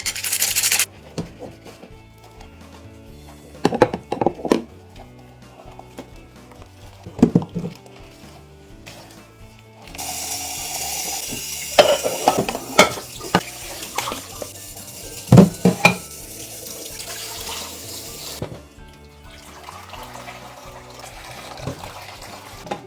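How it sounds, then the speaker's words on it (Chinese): Pots, bowls and utensils being scrubbed and washed in a sink with detergent water by someone wearing gloves, giving irregular rubbing, scraping and clinking with bursts of running water, close and moderately loud. "这个天气的锅碗瓢盆不用热水根本洗不掉啊。"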